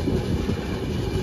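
The Puri–Howrah Vande Bharat train rushes past close by, a loud continuous low rumble of wheels on rails throughout the short stretch.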